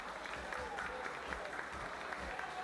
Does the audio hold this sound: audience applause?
yes